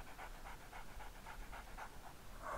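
Dogs in the video game 7 Days to Die pant in a quick, steady rhythm, a soft repeated breathy huffing that stays fairly close and low in level, with no talking.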